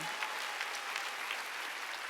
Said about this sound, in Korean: 박수치면 그런 거예요.